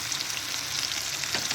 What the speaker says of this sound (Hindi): अभी सिर्फ प्याज और सब्ज़ मिर्च फ्राई हुए हैं